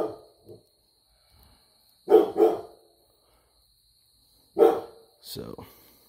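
A dog barks in a few separate bursts, two close together then another pair later, moderately near, in a workshop setting where a chainsaw is being serviced; no talk over the barks.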